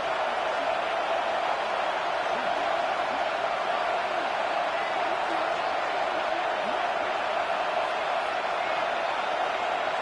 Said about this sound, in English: this crowd is rising to the occasion